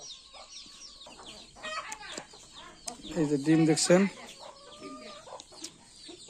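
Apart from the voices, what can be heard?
native hens clucking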